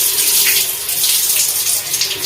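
Running water splashes steadily while something is pressed, kneaded and rinsed by hand in a container, a continuous broadband wash with no breaks, close and fairly loud.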